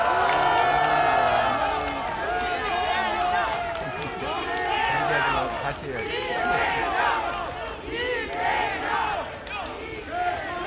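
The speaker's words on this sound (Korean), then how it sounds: "여러분 큰 박수와 환호 부탁드립니다" Campaign rally crowd for presidential candidate Lee Jae-myung clapping, cheering and shouting as a scarf is placed around his neck, a loud roaring mass of voices and applause with an announcer talking over it.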